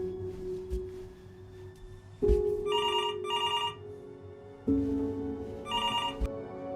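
Telephone in the video game Before Your Eyes rings in two bursts of rapid electronic trills, each set over a low sustained synth tone that steps up in pitch, with no talk.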